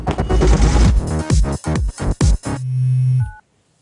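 Phone message notification sounds in a comedy sketch, a loud electronic melody of rapid tones and chirps followed by a held low buzz and a brief high beep, close and alone with no talk.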